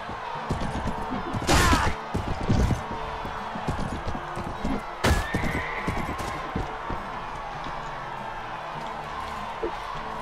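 A horse in the video game Mount and Blade Warband neighs loudly twice amid clip-clopping hooves and thuds of a duel, with sharp bursts standing out over a busy game soundscape.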